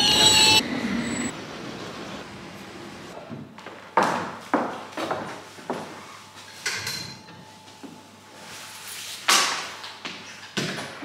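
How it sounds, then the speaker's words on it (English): A London Underground tube train on the Wimbledon line pulls into a station with rumbling wheels, metallic clanks and squeals at irregular intervals, heard from the platform with a faint hum beneath. "the Wimbledon train has just come in"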